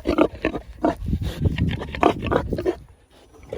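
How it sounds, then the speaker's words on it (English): A farm pig gives a run of close, rough grunts and snorts in uneven bursts, nearby and moderately loud, with no talk over them. "we got Fang the pig coming up to say hello"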